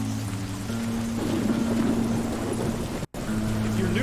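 Rain pours in the Western shooter Call of Juarez: Gunslinger as a continuous hissing wash under low held music tones, broken by a brief dropout near the end.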